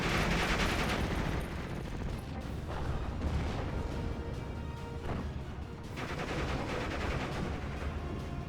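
Gunfire from a 6-pounder anti-tank gun hitting a Panzer L6 in a World War II strategy game, heard as dense, continuous battle noise with overlapping shots and crashes throughout.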